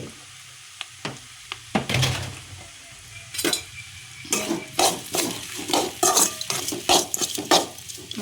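Spoon scraping and clattering through potatoes in a pan of puri masala, a run of close, irregular stirring strokes and knocks against the metal over a low sizzle.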